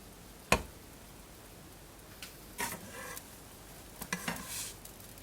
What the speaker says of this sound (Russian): Значит, жарим на очень сильном огне.